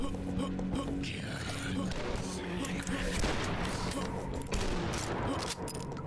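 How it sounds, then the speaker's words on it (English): Explosions and gunfire in the video game DUSK, a dense continuous barrage of booms and shots with a low rumbling tail, sitting under and around a talking player. "That was a nice explosion."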